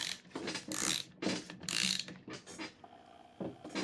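Ratchet clicking in bursts while tightening the cylinder head bolts on a 2008 Acura MDX engine, close and fairly quiet, with short pauses between pulls and no talking.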